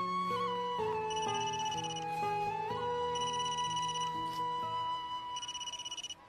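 A mobile phone ringtone plays a repeating electronic melody of clear tones at moderate loudness, running steadily for several seconds, with no voices over it.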